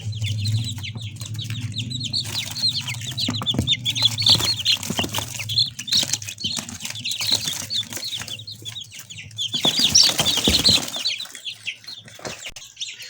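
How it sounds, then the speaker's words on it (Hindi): Dense, continuous high-pitched cheeping from a crowd of newly hatched chicks under a bulb, busy and overlapping, with a steady low hum underneath and a louder flurry near the end. "ये है चिक्स। माशाल्लाह से काफ़ी एक्टिव है।"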